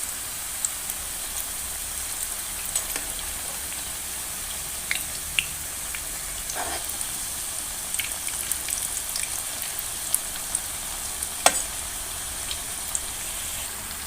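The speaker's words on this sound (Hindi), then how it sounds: "इसे हम अच्छी तरह से फ्राई करेंगे।" Potato pakora snacks fry in hot oil, a steady, even crackle and hiss with scattered small pops, continuous and moderately loud, no voices.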